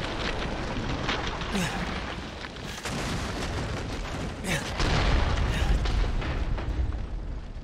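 Gunfire from a weapon in the horror game Resident Evil 7, several heavy booming shots over dense, loud game noise, with a voice talking through it.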